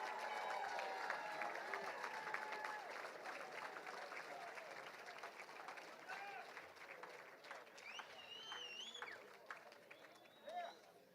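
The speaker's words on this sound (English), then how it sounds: "one more round of applause for the national champions" Applause for the national champions at a Ferris State University football ring ceremony: steady, dense clapping from a crowd throughout, fairly distant and soft, with scattered whistles and cheers.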